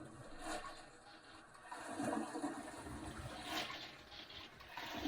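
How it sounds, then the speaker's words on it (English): A household toilet flushes, heard faintly as a surging gush of water that swells midway and then settles into a trickling refill. "first you should urinate and then flush the commode"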